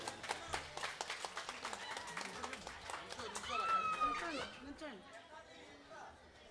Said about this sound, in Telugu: చప్పట్లు కొట్టండి పెద్దవారు.